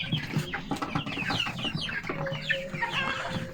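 This year's first Australorp and Rhode Island Red chicks in a coop give a busy, continuous mix of soft clucks and high chirps up close, with no one talking.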